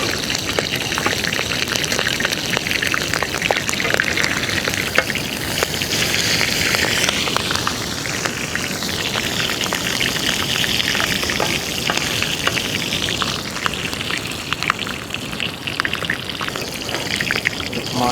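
Karimeen fish wrapped in banana leaf roasting on a pan, a loud, close, continuous sizzle and crackle of frying running steadily throughout with no talk.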